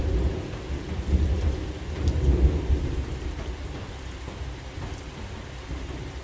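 Heavy rain pours steadily with low, rumbling thunder rolling through it, a dense continuous wash of sound with no voices.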